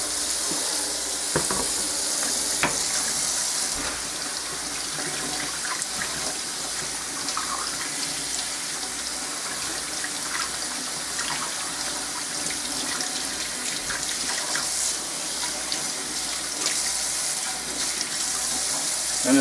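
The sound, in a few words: tap water rinsing paper clay off mixer beaters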